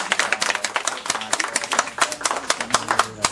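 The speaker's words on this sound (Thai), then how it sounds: "ผมขอเสียงปรบมือไอ้วอลฟ" A crowd claps along in steady rhythm at a Thai memorial music event in Bangkok, with dense, close hand claps running throughout and faint voices underneath.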